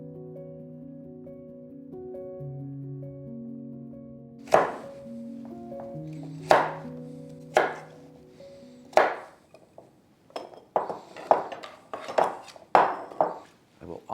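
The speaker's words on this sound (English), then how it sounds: "and then I will roughly chop them" Knife chopping peeled sweet potatoes on a cutting board, sharp thunks starting sparse then coming in a faster irregular run, close and clear, over a soft sustained tonal background at first.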